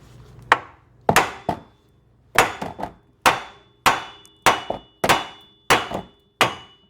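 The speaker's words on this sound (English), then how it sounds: "take your ball peen hammer right here and you hit around on this" A ball peen hammer strikes a 1998–2002 Camaro tie rod end about a dozen times in irregular bursts, each blow a sharp, ringing clang close up, with brief pauses between groups.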